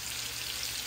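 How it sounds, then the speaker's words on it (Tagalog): Vegetables stir-fry in a pan, giving a dense, even hiss of sizzling oil that stays constant and close for under a second, with no voices. "I'm gonna fry some vegetables"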